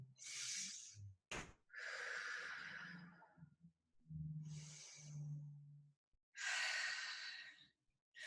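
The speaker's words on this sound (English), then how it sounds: "Take 2 deep breaths." Slow, deep breaths during a flexibility class: long airy inhales and sighing exhales, close and quiet, several in a row with short gaps and a low voiced hum in some exhales.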